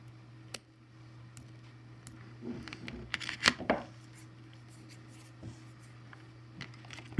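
Small scissors snip the bristles of a nail art liner brush as it is turned, making a brief cluster of faint, close clicks and snips over a steady low hum.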